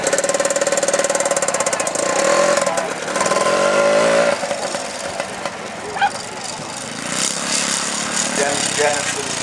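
A Francis Barnett motorcycle with an AMC 199 two-stroke engine runs nearby with a buzzing, uneven note that rises, drops and idles, mixed with background crowd noise at a founders day event.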